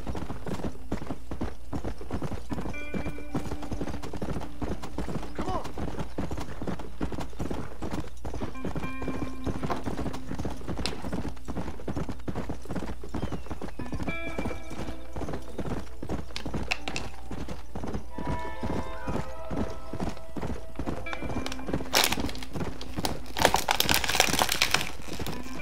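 Horse hooves clip-clop in a steady galloping rhythm through a mountainside in the Western video game Red Dead Redemption, close and continuous over game music, with a brief whinny and louder rustle near the end.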